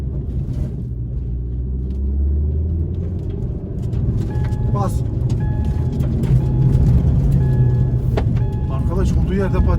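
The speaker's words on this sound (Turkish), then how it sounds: "patinaj atıyor arabaya." A Ford Focus 1.6 115 hp stuck on a dirt mountain road, a low engine rumble rising as the wheels spin in place, with people talking and shouting over it.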